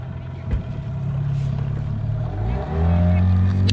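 A motorboat outboard engine starts up and runs steadily on the Volga near Konakovo, its low rumbling drone rising in pitch as it revs toward the end, loud and close.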